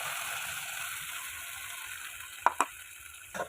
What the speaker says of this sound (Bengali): মশলাটা সুন্দর করে কষিয়ে নেব আমি